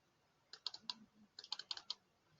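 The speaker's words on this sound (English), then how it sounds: "We are going to just type here" Keys on a computer keyboard are tapped faintly in two short bursts of quick clicks, with a brief pause between them and no voices.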